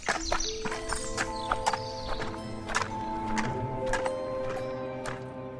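A horse in a forest neighs and whinnies several times while hooves clop unevenly underneath, fairly close and clear with no talking.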